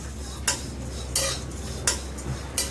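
Flattened rice (poha) dry-roasting in a pan while being stirred for chakli, with four sharp utensil scrapes and clinks spaced roughly evenly over a low steady hiss, close and moderately loud, no voices.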